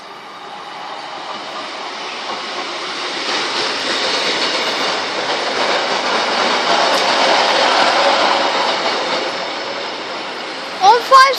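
A Class 153 diesel train pulls away from a station, a broad rumbling roar that swells steadily over several seconds with wheel and rail clatter, loud and close, ending in a couple of sharp squeals.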